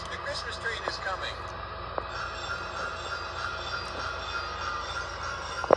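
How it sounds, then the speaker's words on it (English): An MTH Christmas model train rolls along its track with a steady rumble and faint wheel clatter, accompanied by soft squeals and a few light clicks near the end. "Look, here comes the Christmas train."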